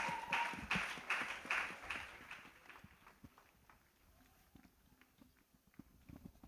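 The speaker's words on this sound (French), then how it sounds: "Acclamez. Clap." An audience at an evangelical church gathering claps together in a rhythmic series of bursts that fade after a few seconds, leaving a quieter room with faint movement.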